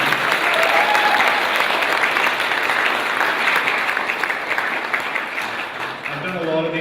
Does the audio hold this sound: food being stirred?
no